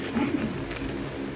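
A single pigeon coos in a short, soft, low burst, close and alone.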